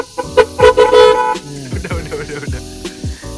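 Horn on a Honda Beat motorcycle sounding in several short and longer honks, loud and close, with a person speaking at moments nearby.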